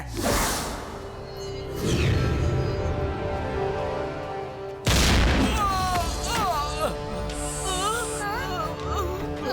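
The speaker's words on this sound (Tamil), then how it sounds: "ஆனா வெளியில வெடிக்கிற சத்தம் கேக்குது" Loud cartoon booms and whooshing blasts burst in waves, with crackling fire and whistling streaks, as heard outdoors during a barrage.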